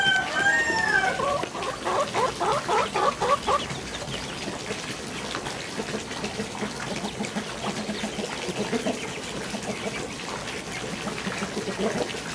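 Backyard chickens on a home farm clucking busily close by, with a rooster's crow and rising squawks early on, then continuous overlapping clucks and scratching sounds.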